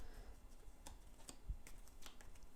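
Eldritch Horror Prelude cards being shuffled by hand, a run of quiet, crisp clicks and flicks at an uneven pace, close and alone without talk.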